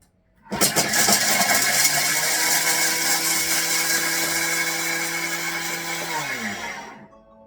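A kitchen food processor running at speed 10 for about five seconds while grinding cheese, starting abruptly into a loud, steady high-pitched whir close by, then winding down.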